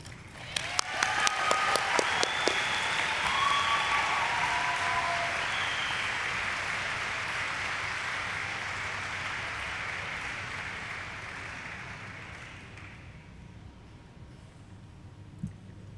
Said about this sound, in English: Let's give a round of applause to all the students that shared their talents